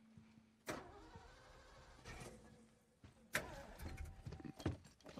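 Truck engine starting in The Last of Us, with clunks and door or key sounds, a brief crank and a louder burst of engine noise near the end, heard close and without speech.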